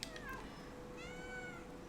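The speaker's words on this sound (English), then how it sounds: "But they like meow" A cat meows in the video game Stray, with several rising and falling calls over about two seconds against a steady low game background hum, close and moderately loud.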